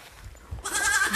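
Goats on a mixed farm give a short, harsh bleat that rises over quiet outdoor background noise, close and fairly loud near the end of the brief moment.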